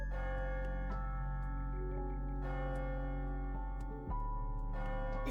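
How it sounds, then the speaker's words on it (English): A clock bell striking midnight in the game Ai: The Somnium Files, several resonant chimes ringing out one after another at steady intervals over a sustained hum, clear and fairly soft, with no talking. "Is that the bell?"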